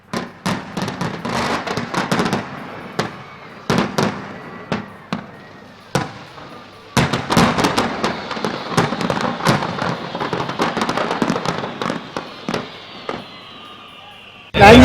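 Fireworks fired from boats on Hussain Sagar lake in Hyderabad, during an incident where the boats caught fire, crackle and bang in rapid, irregular bursts throughout, loud and near, with people talking underneath.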